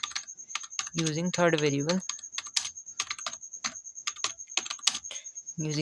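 Python code typed on a computer keyboard: rapid, close clicking keystrokes in irregular bursts, with a voice briefly speaking over the typing.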